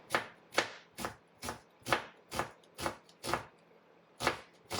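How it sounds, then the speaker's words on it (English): A knife slices an onion thinly for homemade pickles. Crisp strokes land close and clear at an even pace, about ten cuts in under five seconds, with no voices. "now we slice the onion"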